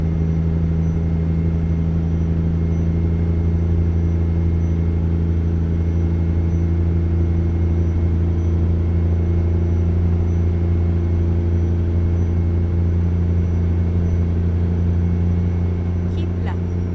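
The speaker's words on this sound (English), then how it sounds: "This is really the first chance we've had to haul ass on an open highway in this truck with a relatively light load." A Western Star truck cruises on an open highway with a relatively light load in American Truck Simulator, a loud, steady low engine drone with constant road rumble throughout.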